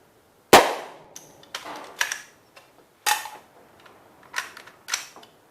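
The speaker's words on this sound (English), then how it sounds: "I just drop it out of the gun, I grab the easiest to reach magazine on my gear" A gun reload: a sharp metallic clack as the magazine drops out, then a series of lighter clicks and knocks as a fresh magazine is seated, outdoors in cold weather.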